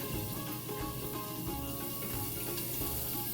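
Burger buns toast in a hot pan with steam building from water dripped off the lid, giving a steady close sizzle and soft crackle with no talk over it.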